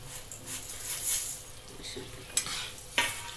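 Vermicelli being stirred in a pan of boiling water for upma, soft scraping strokes over a faint bubbling hiss, with a couple of sharper spoon taps.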